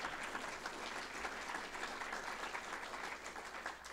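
Audience applause for the speakers at the close of a museum panel session on art in Cody, a steady, dense clapping that holds at an even level throughout with no voices over it.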